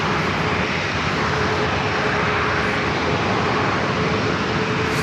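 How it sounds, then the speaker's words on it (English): A JetBlue Airbus A321 departing San Diego airport for Boston produces a loud, continuous jet roar that holds steady from start to finish, with no talking. "We got this JetBlue flight heading into Boston."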